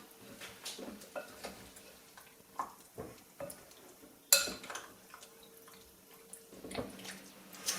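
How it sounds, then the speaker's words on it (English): A spoon stirs a chicken cobbler mixture in a bowl, giving soft, irregular scraping and wet squelching strokes, close and fairly quiet, with a sharper clink partway through. "we're just going to give that a really good stir"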